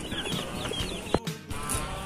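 Young chickens, 45-day-old birds, clucking and peeping close by as they are placed into a coop, with a few short louder calls and some handling bumps.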